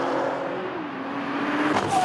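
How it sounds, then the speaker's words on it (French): A Nissan Skyline GT-R with all-wheel drive accelerates in fifth gear along a straight in a racing video game. The engine tone climbs steadily and stays loud, continuous and close throughout. "On passe la 5e, on arrive à 120 miles en bout de ligne droite."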